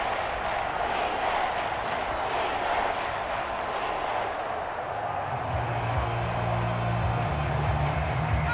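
A stadium crowd in the Madden NFL video game, Denver Broncos versus Seattle Seahawks, keeps up a loud, steady roar of cheering for the whole stretch, with a low droning layer rising in the final seconds.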